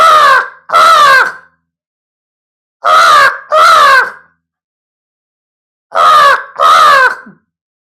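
A man vocally imitates a crow, giving three evenly spaced pairs of harsh, loud caws separated by silence, close and alone.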